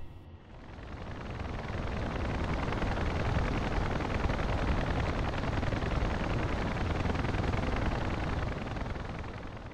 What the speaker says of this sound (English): That will be our helicopters, so it looks like they are checking in finally.